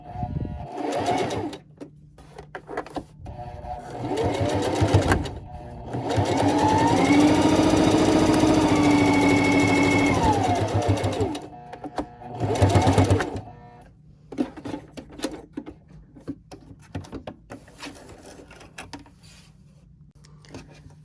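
A sewing machine stitches fabric for a reusable gift bag in fast rhythmic bursts, one long run in the middle and shorter runs around it, with quiet handling noises between.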